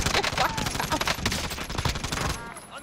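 Rapid automatic gunfire in the shooter game Call of Duty Warzone: dense, loud, crackling bursts of shots filling the whole stretch before tapering off, close and intense.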